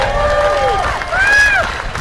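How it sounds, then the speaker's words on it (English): A College of Alameda 2018 commencement crowd applauds loudly and steadily after the presidential address, a dense wash of clapping with whoops and cheers rising over it. "let's applaud our College of Alameda President, Dr. Tim Karras, for that special presidential address"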